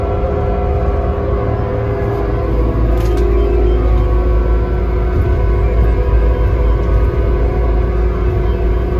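A plow truck with wings on a test run in McAdam, New Brunswick, after a DEF fault repair: a steady, loud engine rumble and road drone that continues throughout with no breaks.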